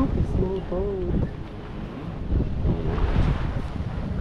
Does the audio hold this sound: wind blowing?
yes